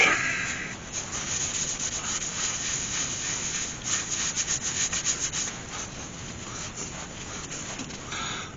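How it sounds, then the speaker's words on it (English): Sandpaper rubbing a spalted ash wood bowl spinning on a lathe, a steady close hiss of abrasion with a brief rhythmic pulsing in the middle and no speech. "Now I just got to sand it all down."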